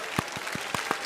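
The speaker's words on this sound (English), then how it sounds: "a round of applause" A few scattered hand claps from a small live podcast audience, sparse and fairly close, about six claps in just over a second.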